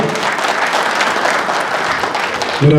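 An audience claps loudly and steadily at a public event where marriage-assistance cheques are handed out. The sustained applause is close and dense, with a faint murmur of the crowd beneath it.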